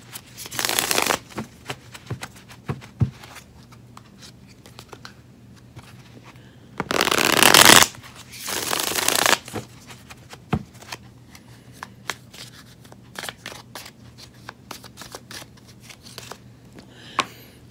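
Tarot cards being shuffled in several bursts, with a long, loud riffle in the middle and lighter handling sounds and soft taps in between.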